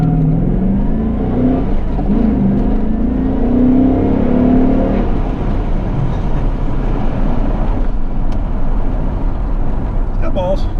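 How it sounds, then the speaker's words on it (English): A 1996 C4 Corvette Grand Sport launches hard after the clutch is popped, its engine note climbing through a loud, rising pull heard from inside the car, with voices over it. "Gotta pop the clutch."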